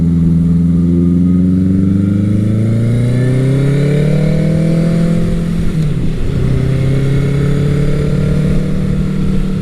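A 1982 Honda CB900 Custom's engine climbs steadily in pitch while riding, dips sharply at a gear change, then settles into a loud, close, even drone without talk.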